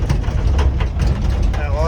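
An empty Mahindra Bolero pickup drives over a bumpy, gravelly canal road, its body and bed rattling and clattering continuously over a low engine and road rumble, close and fairly loud.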